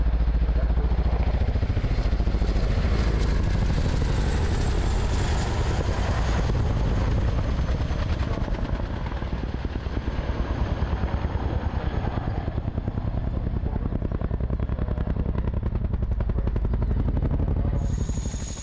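A Chinook helicopter's rotor and engine roar continuously up close, a deep rhythmic thudding with high turbine whine over it.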